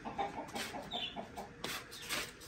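Hens near their nest on a farm, giving a few soft, close clucks in short bursts over faint background noise.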